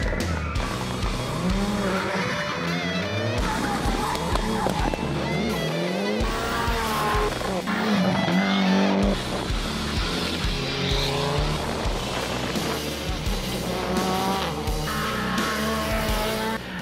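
A rally car at the Janusz Kuliga and Marian Bublewicz memorial rally drives hard on a fast stage, its engine revving loudly and changing pitch continuously, with tire squeal and skidding throughout.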